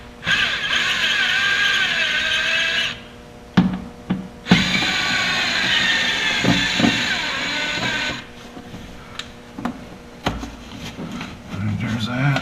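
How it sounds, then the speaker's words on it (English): A Phillips screwdriver backs out clamps on a Yamaha Viking side-by-side during a sheave and slug kit install. Close, whirring driver bursts with pauses and clicks come between them, and someone talks over parts of it. "All right, got a Phillips here."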